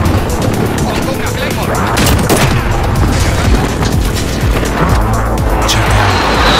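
Gunfire and explosions from a first-person shooter video game, including a Claymore mine blast, roar as dense, continuous loud bursts and rattling fire with a player talking over the action.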